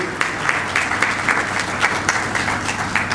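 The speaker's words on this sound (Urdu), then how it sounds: "اب تالیاں بجائیں گے ان کے لیے، انہیں ویلکم کریں گے" A church congregation claps to welcome a couple at a Sunday worship service, steady mid-distance applause with a light, even patter from many hands throughout.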